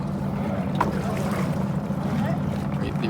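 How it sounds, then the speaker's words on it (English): Racing boat engines starting and warming up at lakeside boat races, a low steady rumbling drone at a distance mixed with wind, while someone talks nearby. "They're all starting their engines right now and trying to warm up."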